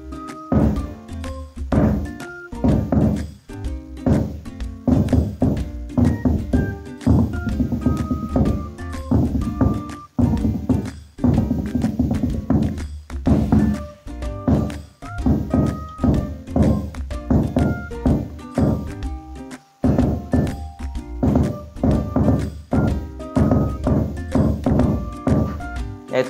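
A hadroh ensemble of Jepara rebana frame drums played without the tung bass drum, with sharp slaps and hollow thuds in a busy, driving rhythm that runs steadily with brief pauses, loud and close.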